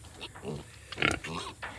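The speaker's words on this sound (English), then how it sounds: "This is our first litter of pigs born on the farm." Grunts and soft oinks from a sow and her newborn first-litter piglets nursing on a farm, several short close calls in quick succession with one louder squeal in the middle.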